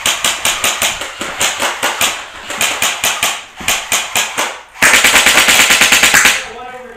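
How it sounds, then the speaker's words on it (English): Airsoft guns shooting from building windows during an outdoor team skirmish, loud rapid strings of close snapping shots in several bursts, the last burst sharper and brighter, with no voices over it. "They're shooting from the windows!"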